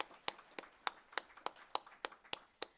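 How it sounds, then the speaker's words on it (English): Clapping at a Canine Companions graduation ceremony: a steady run of crisp, evenly spaced claps, about three per second, fairly faint and with no talk over them. "Give yourself a round of applause."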